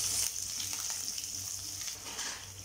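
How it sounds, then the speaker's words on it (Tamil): Small onions sautéing lightly in oil in a pan for capsicum rice, a steady soft sizzle running evenly throughout with faint occasional stirring, no voices. "வெங்காயம் சேர்த்து லைட்டாக வதக்கிக்கோங்க"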